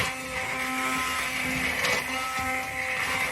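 Blender puréeing onion soup made with champagne and camembert, a steady loud whirring motor hum that runs continuously and close throughout.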